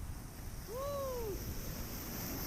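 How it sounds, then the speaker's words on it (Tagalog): Strong sea waves roll in along the shore during shore casting for fish, a faint, continuous wash of surf and wind, with a brief whooping voice rising over it. "Lakas ng alon."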